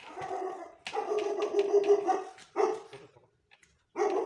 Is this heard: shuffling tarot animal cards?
no